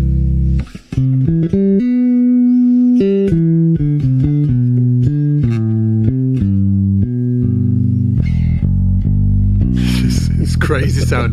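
Electric bass guitar with both pickups blended evenly in the middle, playing a run of clean, even, sustained notes up close, with a noisier burst of sound near the end.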